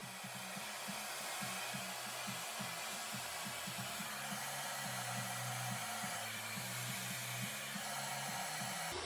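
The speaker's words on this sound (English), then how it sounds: "you'll see me switch the blow dryer around and hit it from the back" A handheld blow dryer runs steadily at close range during an at-home salon-style blowout, a constant whooshing hiss with a low motor hum and no talk.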